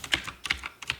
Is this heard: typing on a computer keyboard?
yes